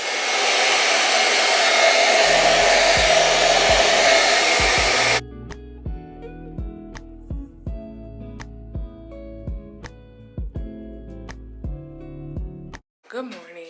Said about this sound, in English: I'm finishing up with drying my hair